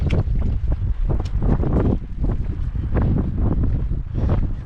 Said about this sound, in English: Shame it's windy